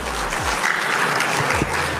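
An audience at a religious gathering claps together in a dense, continuous patter, fairly loud and steady throughout, with low hum and a few rumbling thumps underneath.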